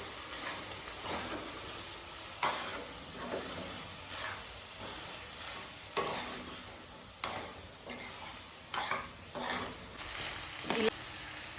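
Boiled mutton keema sizzles in a pan as it is stirred for a simple curry, with a steady frying hiss punctuated by intermittent spatula scrapes and taps, fairly close and moderately quiet.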